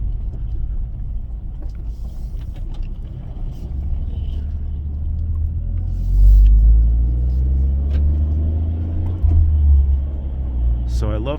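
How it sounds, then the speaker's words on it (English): Factory exhaust of a Toyota GR Corolla with a turbocharged 3-cylinder engine, a loud steady low rumble from inside the car that swells briefly as it pulls, with a person talking over it. "So I love the sound of the exhaust."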